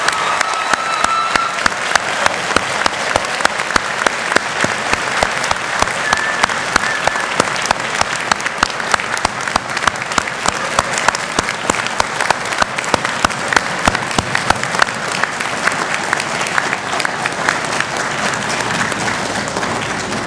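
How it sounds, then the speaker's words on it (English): A large crowd at the East Georgia College fall 2009 commencement ceremony applauds the graduating class with steady, dense clapping that continues loud and unbroken for about twenty seconds. "Please give them a hearty round of applause."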